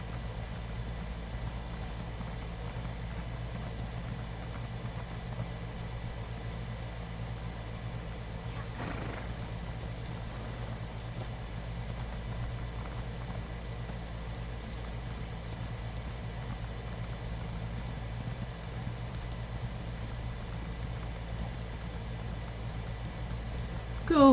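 Horse hooves clip-clopping at a steady gallop in a fantasy video game, a continuous even rhythm with a faint whinny, running the whole way under a low droning game backdrop.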